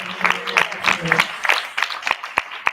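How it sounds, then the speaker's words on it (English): Applause for graduates at a youth Sunday church service, a scattered burst of claps that thins out into a few louder single claps, with a voice speaking over the start. "Give yourselves a round of applause"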